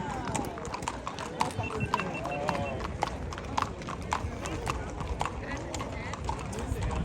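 Rhythmic clip-clop of a carriage horse's hooves on pavement at a trot at a historical site, with a brief whinny and background chatter from people nearby.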